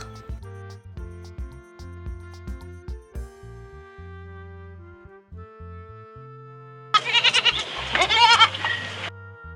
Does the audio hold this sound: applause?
no